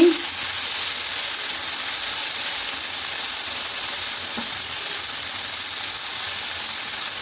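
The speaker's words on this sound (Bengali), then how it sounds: "এই তো চিকেনটা একটু ভালোভাবে ভেজে নিচ্ছি।" Salted chicken pieces fry in a pan for a cabbage and new potato dish, a steady, even sizzling hiss that carries on alone without pause.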